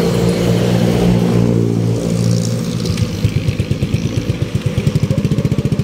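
A Yamaha NMAX V2 scooter that had trouble starting fires up and runs loud and close, settling into a rapid, pulsing idle with throttle blips; no talking.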